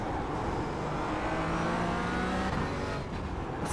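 Porsche Cayman GT4 engine in iRacing at Silverstone, a steady loud buzzing drone of sustained acceleration, the pitch climbing and then dropping briefly near the end as a gear changes.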